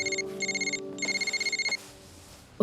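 A telephone rings in two trilling bursts, a bright electronic warble that pauses between rings, then cuts off into quiet room noise.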